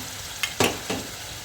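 Yogurt whisked into hot oil for a mushroom curry: a low, steady sizzle broken by a few quick scraping strokes, one louder than the rest.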